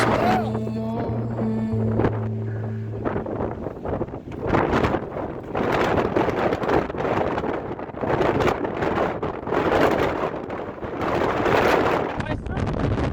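A strong wind storm at a mountain surf spot roars and buffets the microphone in loud, continuous gusts, with a brief low tonal hum near the start and no clear speech.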